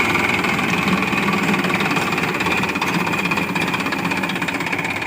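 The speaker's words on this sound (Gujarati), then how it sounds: "ચાલુ કરી દીધું ટ્રેક્ટર" A farm tractor's engine runs steadily on a village field at maize sowing time, its loud, continuous mechanical rumble and knocking close by for the whole stretch, with no talk over it.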